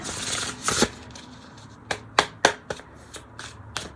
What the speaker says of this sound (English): Pretty good riffle shuffle too